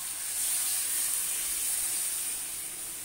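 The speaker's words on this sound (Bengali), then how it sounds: "দেখুন, এবার আমি জল দিয়ে দেবো" Steady loud hiss and sizzle as water hits a hot pan of eggplant and hilsa curry, continuous and close for the whole stretch, no talk.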